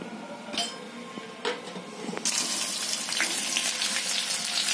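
Cumin seeds hit a spoonful of hot oil in a pan for tomato chutney: after a couple of quiet clinks, a loud, dense sizzle bursts in and holds steady to the end.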